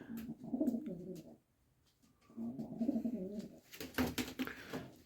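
Pouter pigeons in a loft coo in three rolling, throaty phrases separated by short pauses, close and fairly clear.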